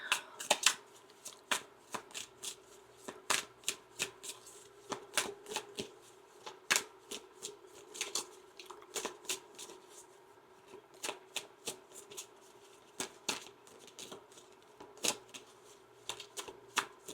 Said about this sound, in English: Let me pull an angel number card for you.